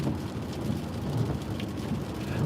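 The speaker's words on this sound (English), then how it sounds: "It's raining out here." Heavy rain pours outdoors in a dense, steady roar, with deep rolling thunder rumbling underneath throughout, close and loud with no voices.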